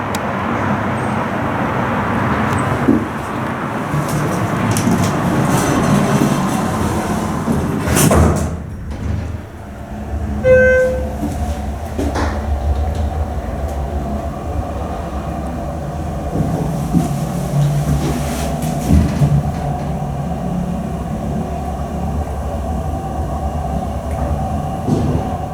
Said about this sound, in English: And there comes a train.